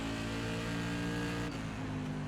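Several SK Modified race car engines in iRacing drone steadily at high revs, a dense, continuous roar of close pack racing with no break or pause.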